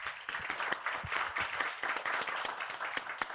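A crowd applauding with dense, steady clapping that holds at an even level throughout, with no voices over it.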